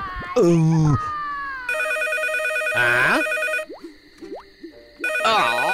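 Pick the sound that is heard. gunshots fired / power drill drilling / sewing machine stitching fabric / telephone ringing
telephone ringing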